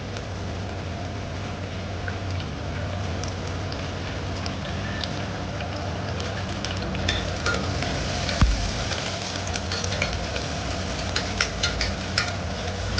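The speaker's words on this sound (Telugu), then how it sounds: "గ్రీన్ పీస్ కూడా వేసుకోవాలండి, ఎందుకంటే ఇవి త్వరగా ఉడకావు కాబట్టి కొంచెం ఆయిల్లో వేస్తే బాగుంటుంది టేస్ట్ అనేది." Green peas frying in oil in a pan, giving a steady soft sizzle with occasional crackles and ticks that grow slightly livelier toward the end.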